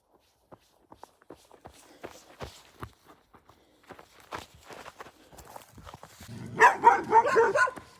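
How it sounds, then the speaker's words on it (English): Sparse footsteps and knocks give way to several dogs barking in a cluster near the end, fairly close and growing louder. "A bunch of dogs just started barking."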